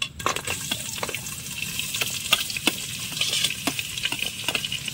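Spoon stirring biryani masala into chicken biryani in a pot outdoors at a night campsite, with steady sizzling and frying under frequent scraping clicks of the utensil against the pot, close and continuous.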